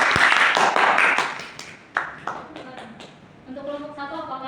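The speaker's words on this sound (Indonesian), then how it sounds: "Beri tepuk tangan kepada diri." A classroom of students clapping for themselves during a maths lesson, a short burst of clustered claps that tapers into a few scattered ones before a voice begins speaking.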